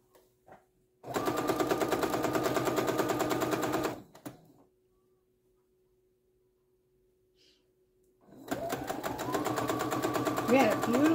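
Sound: sewing machine sewing fabric scraps together

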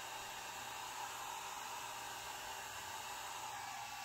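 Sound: hair dryer drying alcohol ink on a planner dashboard

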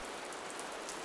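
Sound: food frying in a pan, sounding like rain

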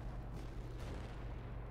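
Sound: gunfire at planes in video game Ravenfield

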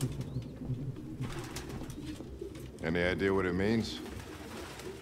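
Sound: pigeons cooing in a video game (Detroit: Become Human)

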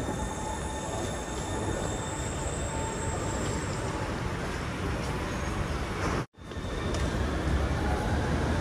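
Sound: Copenhagen Metro M4 train

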